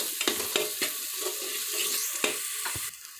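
Peanuts and coriander are stir-fried in oil with tomato for a quick pressure-cooker khichdi. A soft sizzle runs under repeated scraping strokes of a spoon against the pan.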